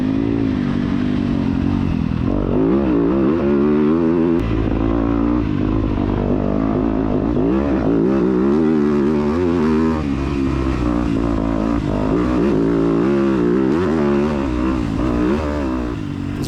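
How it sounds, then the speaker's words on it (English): A four-stroke dirt bike climbs hills in a cross-country race, its engine droning loudly and steadily with repeated rises in revs and some rattling clatter throughout. "Bike was feeling really good going up these hills and stuff."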